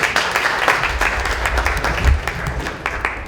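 Audience at a book launch in Australia applauding, a dense steady patter of clapping hands filling the room at moderate loudness without interruption.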